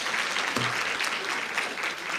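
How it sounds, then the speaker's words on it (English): Sustained applause from a summit audience honouring someone speaker, steady and dense throughout with no voices over it. "Let's give her another round of applause."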